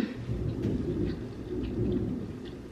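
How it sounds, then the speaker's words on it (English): A low, rolling rumble of thunder that swells and fades over a few seconds, with a soft wash of rain in the background. "It's thundering."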